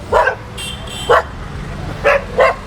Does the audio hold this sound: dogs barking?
yes